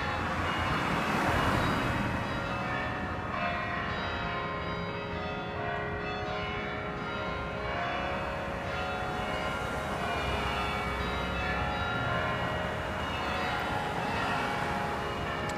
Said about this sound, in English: Where are the bells?